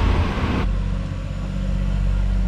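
A Lexus GS300 fitted with a Tomei MX8280 turbo drives on a test run, its engine a loud steady drone that drops in pitch after a brief higher-revving moment.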